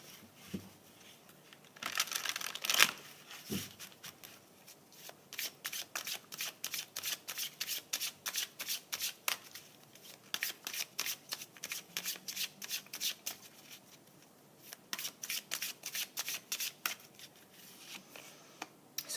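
Tarot cards being shuffled by hand nearby, a quiet run of rapid riffling and papery flicks in repeated bursts, with no talking.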